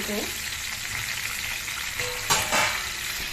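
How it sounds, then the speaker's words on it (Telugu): Eggplants frying in a covered pan give off a steady close sizzle throughout, with a brief louder burst of hissing near the end as the pan is disturbed. "వేగుతున్నాయండి వంకాయలు"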